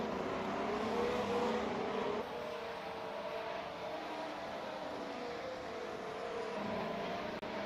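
Race cars run on track at the FSR 2025 World Championship round in Australia, some on medium and some on hard tyres: a steady, moderately distant engine drone holds throughout with a slight shift in pitch partway through, and no voices.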